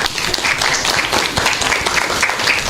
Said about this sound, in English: once again give a round of applause to our debaters